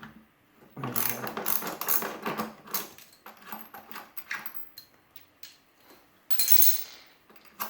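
A ratchet fitted with a metric socket turns a bolt on a Maytag 3000 washer during bearing replacement, giving close, rapid metallic clicking and clattering in uneven bursts, with a louder flurry near the end.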